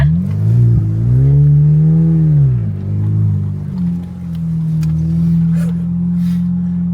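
A Tank 300 4x4 driving a bush track in Waychinicup National Park, its engine droning loudly close up with a rising and falling rev, then settling to a steady hum with faint knocks.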